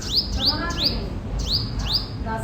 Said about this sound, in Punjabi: ਆਹ ਬੁਲਬੁਲ ਵੀ ਬੈਠੀ ਆਹ ਦੇਖੋ ਬੁਲਬੁਲ